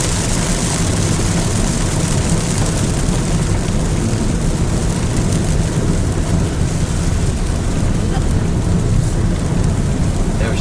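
Heavy rain pounds steadily on a car during a drive toward the sea, with wipers working and thunder rumbling low beneath the constant close wash of water.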